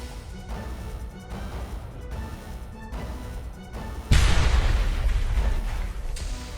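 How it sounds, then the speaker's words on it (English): Ukrainian artillery opens fire in a sudden loud, close blast that erupts partway through and rolls on as a sustained rumble and crash, following a stretch of steady low battlefield noise with intermittent thuds. "Ukrainian artillery opens fire."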